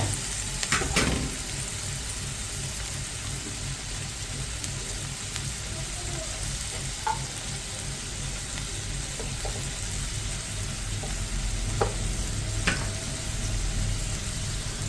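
Steady frying sizzle of tomato paste in a pan, continuous and close, with a few light clinks and stirring sounds.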